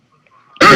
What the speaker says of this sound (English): It's always when you clear your throat.